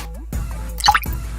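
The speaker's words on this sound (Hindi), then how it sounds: "बाहर बहुत तेज बारिश हो रही है" Cartoon water drips sound in a few distinct, clear plops and drops, close and fairly loud, set against a quiet background during a scene of heavy rain and village flooding.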